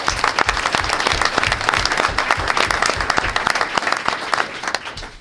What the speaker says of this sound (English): So let's give volleyball a round of applause